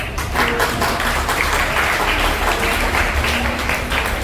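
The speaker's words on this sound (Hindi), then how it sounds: "छात्रों की तरफ से आवाज आ रही है तालियों की" Loud, continuous applause from a crowd of students at a school Hindi Bhasha Diwas celebration, a thick, steady wash of clapping filling the whole stretch.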